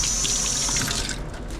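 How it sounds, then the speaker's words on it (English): Running tap water splashes steadily over hands being rinsed in a sink, close and fairly loud, easing off slightly toward the end. "I'm just gonna give my hands a quick rinse."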